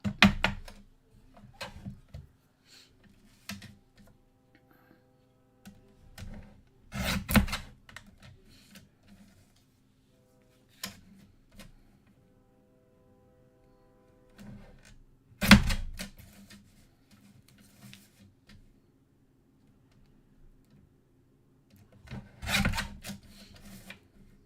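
Card paper being trimmed for handmade thank-you cards, heard as quiet scraping and cutting strokes in separate bursts with faint clicks in between, close by and with no talk.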